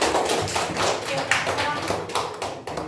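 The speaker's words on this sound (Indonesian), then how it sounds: "Tepuk tangan untuk Pak Syukur." Applause for a teachers' group at a training session, a dense burst of many hands clapping, loud and close, continuing steadily for the whole stretch.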